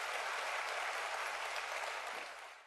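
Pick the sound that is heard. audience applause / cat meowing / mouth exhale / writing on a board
audience applause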